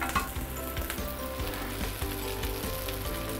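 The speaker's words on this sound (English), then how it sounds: "Stir fry again." Steady frying sizzle from prawn noodles and bihun being stir-fried in a wok for Singapore Hokkien prawn mee, with soft clinks of the spatula scraping the pan in an uneven rhythm throughout, close and continuous.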